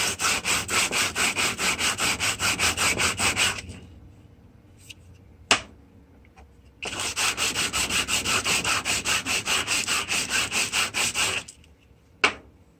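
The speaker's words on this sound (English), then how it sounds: "flat table, large sheet of sandpaper, and just" A part from a Unimog 425 rubbed by hand across a large sheet of sandpaper on a flat table, rapid rhythmic back-and-forth scraping strokes in two long runs, separated by a quiet pause with sharp clicks.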